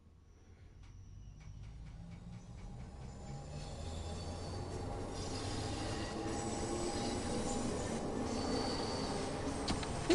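A train in the Train Sim World 5 video game pulling out of a London station: a low rumble builds steadily over faint clicks and a thin wheel squeal, with no voices.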